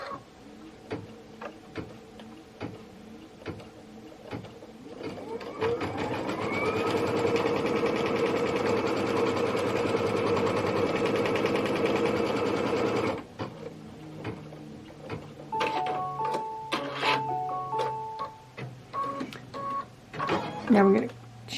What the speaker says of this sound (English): Now let's stitch the tack down line.